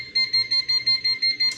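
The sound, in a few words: water heater leak sensor audible alarm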